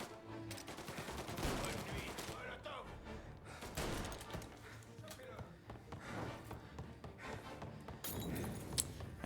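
Gunfire in the video game Mafia, a busy run of sharp bangs and impacts spread through the clip over a dense game soundscape, with a voice talking over it.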